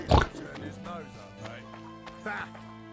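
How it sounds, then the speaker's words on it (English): Pigs in The Witcher 2 give a loud oink at the start, then softer grunts and snorts follow amid game ambience, with a voice talking over them. "Hello, piggies."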